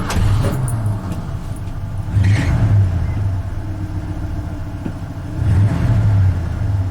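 A carbureted engine in a restored 1984 Ford F150 pickup turns over, then runs close by at a steady idle. Its low rumble swells into two brief revs, one early and one near the end.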